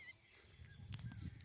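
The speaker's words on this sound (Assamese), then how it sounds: "এতিয়া পথাৰত পূৰা চৰাই মাতি আছে," Birds calling out in an open farm field give a few short, honking fowl-like cries, moderately near, in a brief burst.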